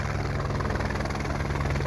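Helicopter hovering while crews set towers for a new high-speed quad chairlift at a ski area, a loud steady rotor thump and engine drone filling the short stretch.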